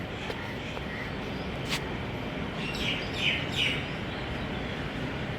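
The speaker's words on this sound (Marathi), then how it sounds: "किती सुंदर आवाज येतो ना पक्ष्यांचा." Birds chirping outdoors: a few brief, bright tweets in a short cluster over a steady wash of ambient background noise, with no one talking.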